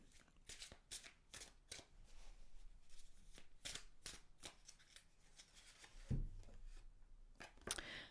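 A deck of non-glossy Osho Zen tarot cards being shuffled by hand up close: quiet, quick riffling bursts repeated many times, with a firmer knock near the end and no speech.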